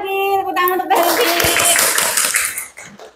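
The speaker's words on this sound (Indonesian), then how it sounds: "Tepuk tangan untuk Teh Libi." Classmates applaud in a classroom, a short dense burst of clapping right after a teacher's voice, close and fairly loud, fading out near the end.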